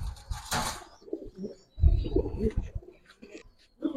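Giribaz pigeons coo in a loft, close by, with a few low throaty coos and soft murmurs repeating in irregular bursts, plus some rustling and a brief flutter early on.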